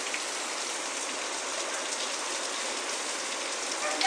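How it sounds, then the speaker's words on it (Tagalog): Heavy typhoon rain pours down steadily, a dense, continuous hiss of drops hitting surfaces close by, holding an even roar throughout with a slight swell at the very end. "Diyan, lumalakas yung ulan ulit."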